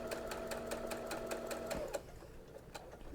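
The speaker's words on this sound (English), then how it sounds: "just sew right over it like this" A sewing machine with a hemmer foot runs over a fabric seam in a rapid, even needle rhythm for about two seconds, then stops with a faint mechanical clunk, close and clear.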